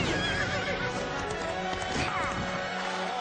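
A horse neighs loudly over the clatter of galloping hooves, with a busy, rumbling background throughout.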